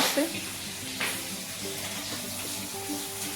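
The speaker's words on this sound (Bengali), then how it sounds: "মাছ ভাজা করবেন মা" Fish frying in a pan in a home kitchen, a soft continuous sizzle with faint clinks and stirring sounds scattered through it.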